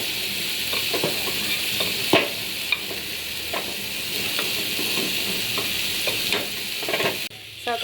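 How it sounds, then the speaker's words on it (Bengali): Banana flower (mocha) cooking in a pan with a little oil, a steady close sizzle broken by repeated scraping stirs and clinks of the spoon, no voices. "আজকে কলার ঠোর রান্না করছি, ঠোর বলে এটা হচ্ছে কলার মোচা, নোনাই দিচ্ছি সাথে রান্না করতেছি।"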